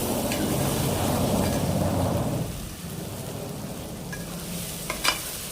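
Eggs and mushrooms fry for a curry with a loud, dense sizzle and stirring for about two seconds, then a quieter sizzle continues with a couple of sharp utensil clinks near the end.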